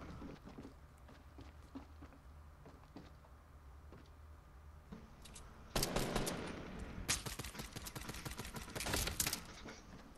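Bursts of rapid automatic gunfire in a Fortnite match, at first a scatter of distant shots with footsteps, then loud dense volleys aimed at the player's stairs, with no talking.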